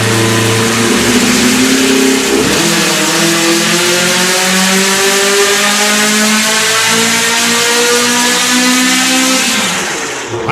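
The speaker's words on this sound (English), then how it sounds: "Starting higher in the RPM range, applying the dyno" EMPI engine screaming under heavy dyno load at an engine competition, holding a loud steady high-rpm roar with rising harmonic pitch for most of the run, then easing off near the end; no speech.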